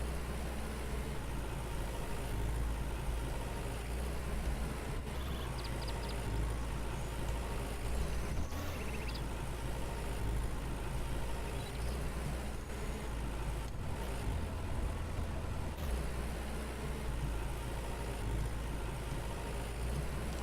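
Tractor engine droning while plowing a field in the farming game Farmer's Dynasty, a steady low idling-like rumble that holds unbroken throughout, with no talk.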